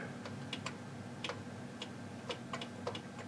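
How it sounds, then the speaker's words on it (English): Small ratchets clicking inside a Wurlitzer jukebox mechanism, a string of sharp, faint ticks at irregular intervals over a steady mechanical hum. "those are the little ratchets there which you can see clicking"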